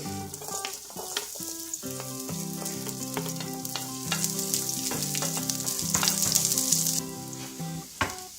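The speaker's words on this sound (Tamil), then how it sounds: "எண்ணெய் சூடானதும் நம்ம ஃபர்ஸ்ட் இஞ்சி பூண்டை போட்டு வதக்கிக்க போறோம்." Ginger and garlic sautéing in hot oil for mint chutney, a close, continuous sizzle and crackle with stirring clatter running throughout and no one speaking.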